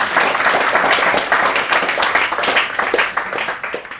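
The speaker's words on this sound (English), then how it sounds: "Let's give David another round of applause." A crowd applauds steadily for several seconds, a dense wash of clapping hands at close range with no voices standing out.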